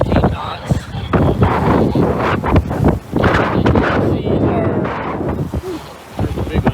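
Strong sea wind of about 16 to 18 knots buffets the microphone aboard a boat in 2 to 4 foot seas, a loud continuous roaring rumble with gusty swells and no clear speech.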